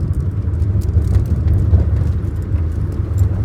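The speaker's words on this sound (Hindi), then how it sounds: "अब लगा दिया मैंने फोर्थ गियर और अब गाड़ी चल रही बिल्कुल रिलैक्स" Steady, low engine hum of a manual car cruising in fourth gear at about 40 and 1200-1300 rpm, a smooth continuous drone with faint road noise and no voices.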